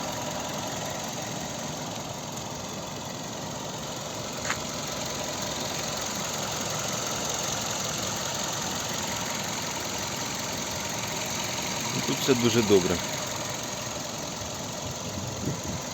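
A 2007 Kia Ceed 1.6 petrol engine with manual gearbox idles steadily up close, a smooth even hum, with a brief clatter and a few words spoken near the end.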